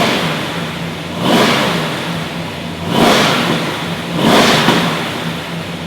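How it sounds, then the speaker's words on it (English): A 1970 Dodge Charger HEMI R/T V8 revs loudly and close by in three rising bursts, each swelling and settling back to a rumbling idle between them, with no talking. "Let me go ahead and fire it up so you can hear what it sounds like"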